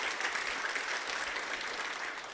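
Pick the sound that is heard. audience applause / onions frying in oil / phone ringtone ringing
audience applause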